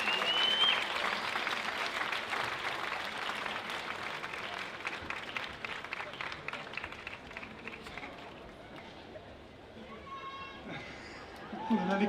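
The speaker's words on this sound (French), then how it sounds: "Oh oui, vous pouvez l'applaudir." Festival crowd applause at the opening of the Aurillac street theatre festival, a broad sustained clapping that thins out over time, with chatter and a voice emerging toward the end.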